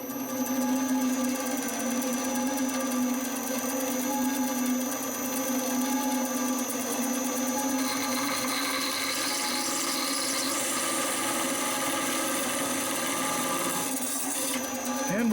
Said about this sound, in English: And now all we have left to do is cut.